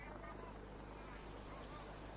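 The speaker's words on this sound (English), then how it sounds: "Now behind us we have a helicopter annoying us." A helicopter drones steadily somewhere behind a cricket ground during a Brisbane Champions League match, its low rotor rumble forming a constant, moderately loud wash throughout with no clear speech on top.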